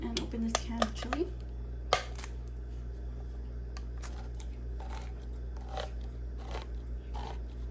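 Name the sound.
opening a can of chili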